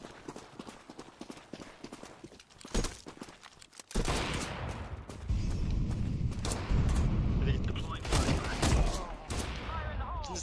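Counter-Strike 2 gunfire cracks out in rapid bursts and sustained volleys, loud and dense from about four seconds on, with quieter sharp clicks and hits before that.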